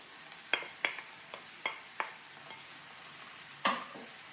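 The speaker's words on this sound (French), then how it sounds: "Je rajoute la viande hachée." Ground meat that had been frozen, frying in a pan for a quiche and stirred with a utensil: a run of sharp scraping clicks, each fading quickly, over a soft, low sizzle, with no talking.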